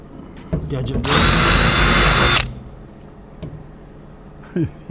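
A power drill whines loudly for about a second and a half during restoration of an AEC Regal Mark 3 bus, then stops, surrounded by faint handling clatter and brief voice sounds.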